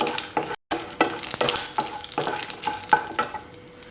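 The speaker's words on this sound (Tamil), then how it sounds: "அதனால் பொரிஞ்சிட்ருக்க சமயத்தில் வேர்க்கடலையும் முந்திரி பருப்பையும் போட்டுக்கலாம்" Oil sizzling and popping with crackles as mustard seeds, peanuts and cashews fry, plus stirring clinks against the pan.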